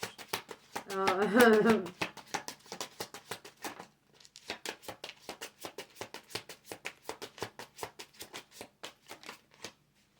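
A holographic tarot deck being shuffled by hand: rapid, crisp card flicks and riffles in quick, irregular bursts. A voice is briefly heard near the start.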